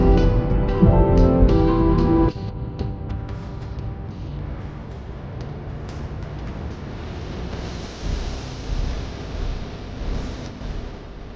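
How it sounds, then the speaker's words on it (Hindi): Alaknanda river near Badrinath rushing past, a broad continuous hiss of flowing water with gusty wind buffeting the microphone, louder at first then settling into a steady roar. "तो दोस्तों ये अलकनंदा नदी है।"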